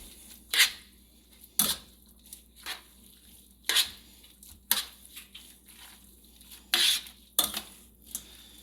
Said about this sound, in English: And then I'm going to stir it again.